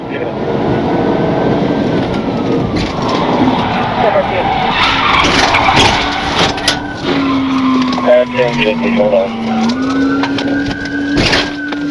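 Tires screech as a Tesla skids and spins out during a police chase, then slides backward against a concrete divider; a long, loud squeal with shifting pitch over engine and road noise.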